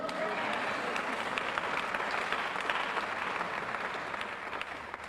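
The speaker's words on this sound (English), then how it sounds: "Doesn't that deserve a round of applause?" An audience applauds at an educators' award event, dense steady clapping from a large crowd in a hall, sustained and then tapering slightly.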